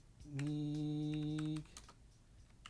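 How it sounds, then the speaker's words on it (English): Soft keyboard clicks from typing on a computer while building a game in RPG Maker MZ, heard alongside a sustained, tonal beep that lasts just over a second; the typing is quiet and close. "And I cannot type technique"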